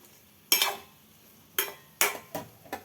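Spoon stirring potato egg curry in a pan, Telangana style: five distinct scraping, sizzling strokes at irregular intervals, close and clear with no talking.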